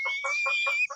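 Farm chickens clucking close by, five quick rhythmic bursts of calls in steady succession with no talking.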